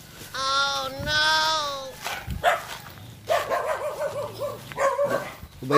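Dog barking outdoors near a school, a few sharp barks mixed with whining tones, moderately close, with people talking over and between them.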